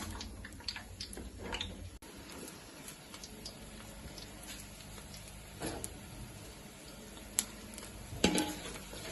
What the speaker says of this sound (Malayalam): ഈ നല്ലെണ്ണയിൽ നമുക്ക് ഈ മാങ്ങനെ നമുക്ക് ഫ്രൈ ചെയ്തെടുക്കാം